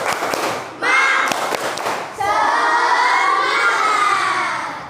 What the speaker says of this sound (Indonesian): marilah kita tepuk semangat dulu